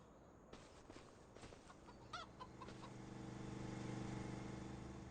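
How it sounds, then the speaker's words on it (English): Chickens cluck and call in a farm game set on the Montana plains, soft and fairly close, with a few scattered footstep-like taps and a low rumbling drone building underneath toward the end. "Chickens roaming around here."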